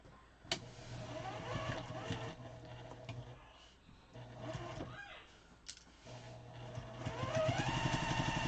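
A sewing machine stitches quilt-as-you-go quilt fabric in a steady mechanical whir, running in several bursts with brief pauses between, fairly close and clear.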